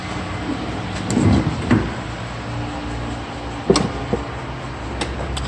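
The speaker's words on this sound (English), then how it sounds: "A little button here. Closes this door." A 2014 Toyota Sienna LE minivan's power sliding door rolls shut with a couple of soft thuds and a final latch click, heard close against a steady background hum.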